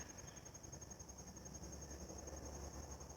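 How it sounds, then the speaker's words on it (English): Crickets trill steadily in a big swamp, with a low continuous rumble beneath; bullfrogs and squirrels are not clearly distinguishable in the constant outdoor hum. "Hear the bullfrogs and the crickets and the squirrels."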